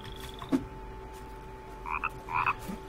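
Frogs croak in a few short bursts against a quiet forest background at dusk, with a faint steady tone underneath.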